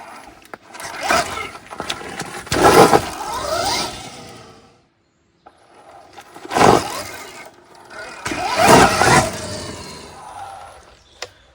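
A Stark VARG electric dirt bike pivots with its front lifted, two bursts of tire scrub and dirt spray with whining motor surges, separated by a quiet pause, close by.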